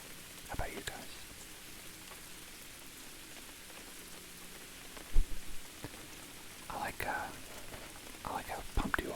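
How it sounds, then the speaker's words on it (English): Steady rain falls outside with a soft, continuous hiss, while a man's hushed whispering rises over it in a few short bursts. "I like the sound of rain."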